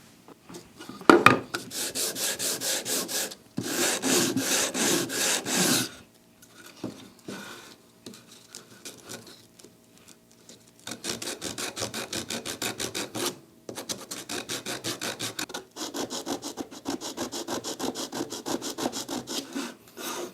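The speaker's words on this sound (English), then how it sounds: "There you go, super handy sanding block." Rhythmic rasping strokes of sandpaper on a 3D-printed sanding block rubbing against wood, in bursts with short pauses between them, close and fairly quiet.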